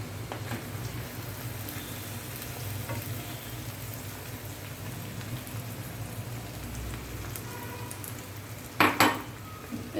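Flattened rice (atukulu) frying in a pan with turmeric, a steady close sizzle and crackle throughout with occasional scraping stirs, ending in a few louder clatters of the spoon against the pan.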